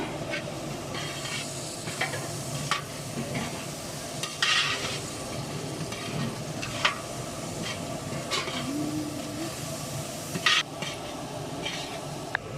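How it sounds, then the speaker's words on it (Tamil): Chopped onion and tomato sizzle and hiss in a hot pan, with occasional scraping and clinks of a spoon stirring them close by. "அதையும் சேர்த்து நல்லா வதக்கிக்கலாம்"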